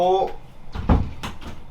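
A door is pushed shut with a single low, dull thud near the middle, surrounded by people talking.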